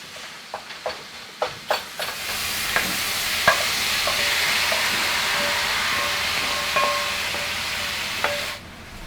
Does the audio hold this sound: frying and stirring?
yes